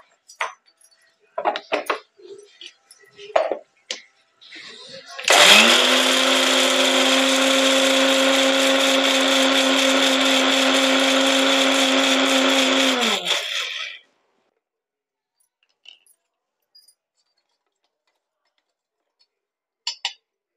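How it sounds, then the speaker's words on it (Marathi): A kitchen mixer grinder grinds roasted spices for fresh turmeric pickle, starting abruptly with a loud, steady high whir that holds for about eight seconds and then winds down, after faint clinks and rustles, with a few light knocks following. "आता आपण मिक्सरला बारीक करून घेऊया"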